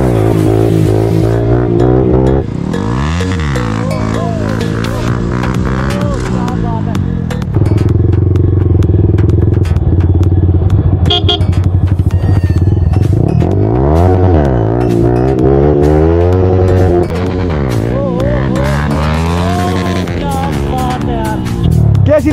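Motorcycle engine revving hard during a wheelie stunt on a road, loud and close, rising and falling through repeated throttle surges, with voices talking over it.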